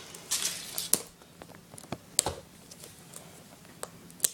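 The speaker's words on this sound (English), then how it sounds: "Very tricky to unwrap these eggs." Foil wrapper being peeled off a Kinder Surprise egg, close crinkling and crackling in irregular bursts with sharp snaps and quieter rustles between.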